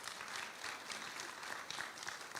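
Applause from a town hall audience in High Point, North Carolina, a steady, fairly faint patter of clapping that carries on evenly throughout with no voices over it.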